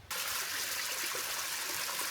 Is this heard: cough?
no